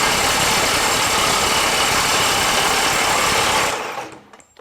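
Kobalt XTR 24V high torque impact wrench (KXIW 1424A-03) hammering hard at full output, a loud dense rattling burst lasting nearly four seconds before cutting off abruptly, heard alone with no talk.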